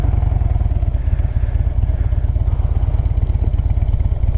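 A motorcycle engine runs at low speed with the rider slipping the clutch in the friction zone and holding light throttle; a steady, close, rapid low thumping pulse continues throughout with no talk.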